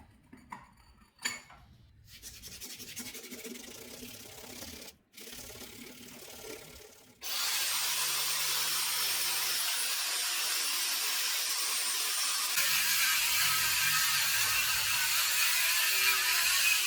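A homemade tool's small, worn electric motor in need of maintenance: a few sharp clicks and a short, stuttering run, then a loud, continuous, hissing whir that keeps going steadily to the end.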